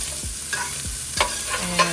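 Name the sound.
ground beef sauteing and sizzling in a pan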